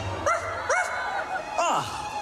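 A dog named Zero in a Disney Halloween party show gives three short yipping barks, spaced about 0.7 seconds apart, over faint crowd and venue ambience.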